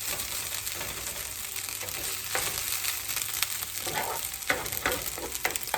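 Eggs and leftover fried rice, three eggs in all, frying in a pan for a gluten-free breakfast; a steady close sizzle runs throughout, broken by scraping stirs and tossing sounds, with no talking.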